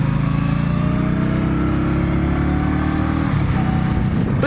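An Indian Scout Bobber motorcycle rides steadily, its engine droning loud and continuous close by with rushing wind noise and a slight shift in tone near the end.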